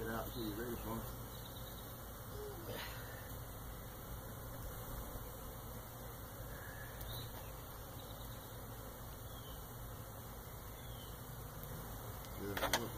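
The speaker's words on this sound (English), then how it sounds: "You should lay that other board on top of that hole so them bees don't get out" A low, steady buzzing of many honey bees being loaded into a new Warre hive fills the air, a constant faint drone with occasional soft knocks and no clear voices.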